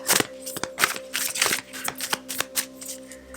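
A deck of tarot cards is shuffled by hand, a series of quick riffling bursts and soft slaps in an uneven rhythm, close and clear, without speech.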